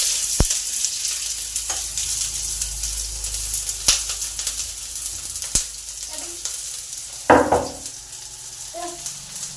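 Onions fry in a pan for chow mein with a steady, close sizzle and occasional sharp clicks and scrapes of stirring. Brief voices come in near the end.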